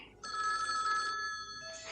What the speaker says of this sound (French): On cherche le téléphone.